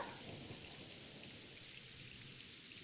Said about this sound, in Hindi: पिछले 1 महीने से लगातार बारिश हो रही है।